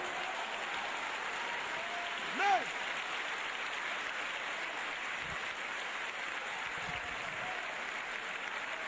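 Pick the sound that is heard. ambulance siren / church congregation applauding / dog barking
church congregation applauding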